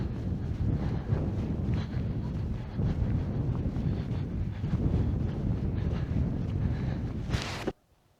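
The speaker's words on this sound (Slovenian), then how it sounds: "Mrzlo piha, mrzlo" Cold wind gusting across a high mountain trail near Mangart, a steady broadband rush buffeting the microphone close up and nearly unbroken for several seconds before cutting off abruptly.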